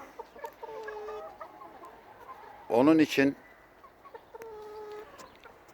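Lohmann hens on an egg farm clucking in soft, repeated calls, with a louder squawking burst in the middle, while someone talks nearby.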